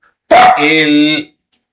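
A small dog gives a single short bark that turns into a drawn-out whine or yelp, close and loud, in a quiet room.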